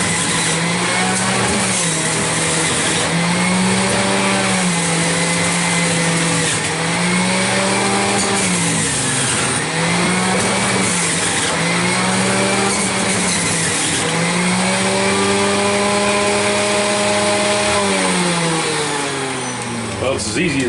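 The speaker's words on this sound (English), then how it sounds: "I'm just going to show you this real quick on how easy this juicer runs, how nice it is. Kind of loud" A loud, steady electric juicer motor whine that rises and falls in pitch, running continuously with faint talking underneath.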